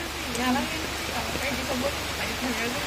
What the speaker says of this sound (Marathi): हे बा पाऊस सुरू आहे इकडे